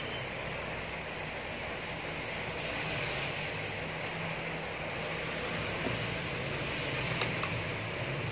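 An electric fan with a fault that makes speeds 1 and 2 spin slowly is switched on and runs with a steady, close whirring hum that holds even throughout, with no talking.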